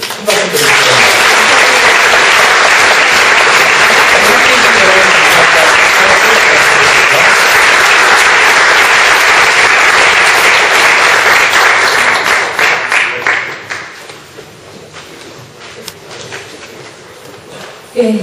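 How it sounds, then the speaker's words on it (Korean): Big audience applause at a forum honouring ballerina Kim Joo-won, loud sustained clapping from a full hall for about thirteen seconds before thinning out and fading into a quieter room. "다시 한번 여러분 큰 박수 드리겠습니다."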